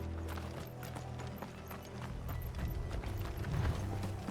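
Horse hooves clip-clop in Final Fantasy 16, a steady run of hoof beats over a low rumbling game soundscape, growing louder toward the end with no speech.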